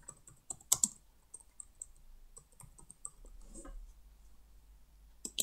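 Typing on a computer keyboard, a quiet, irregular run of clicking keystrokes with brief pauses and a sharper tap near the start and end, in a quiet room with no talk.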